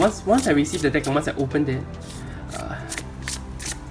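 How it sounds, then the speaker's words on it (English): A tarot card deck is shuffled with quick riffling and flicking card sounds, heard under someone speaking at first and then alone. "Oh, it shuffles beautifully."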